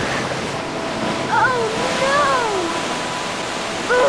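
Animated river water rushing and surging in a steady wash, with a character's brief exclamations and vocal sounds rising over the flow.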